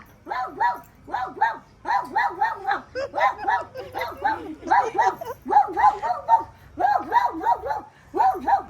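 A dog yips and whimpers in rapid, high-pitched bursts, over and over in quick clusters, loud and close.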